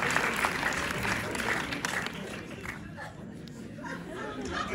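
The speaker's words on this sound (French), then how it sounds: "Je pense qu'on peut applaudir madame pour sa question." Audience at a film premiere screening at UGC La Défense gives a round of applause after a question, a steady patter of clapping mixed with crowd chatter that fades slightly partway through.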